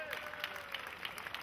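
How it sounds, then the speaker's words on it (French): Faint, scattered clapping from the crowd at a Harley-Davidson and car show in Carnon, 2015, with a voice talking over it. "on les remercie et on les applaudit"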